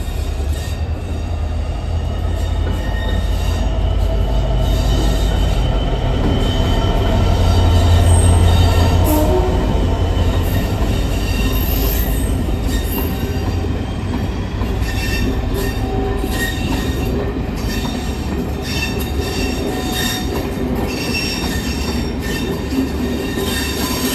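Diesel locomotive 66756 passes at Carlisle with its train, a loud, sustained rumble of engine and rolling wagons with wheel squeal and rhythmic clatter, swelling briefly as it goes by.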